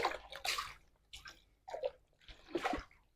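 Silk dyed with tabaek is washed by hand in water, giving close splashes and sloshes in several separate bursts with short quiet gaps.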